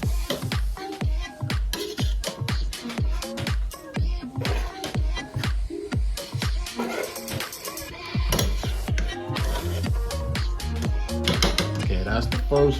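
A spoon scrapes and knocks against a pot while nacho cheese sauce is stirred, making a fast, steady run of close metallic clinks and taps that continues throughout.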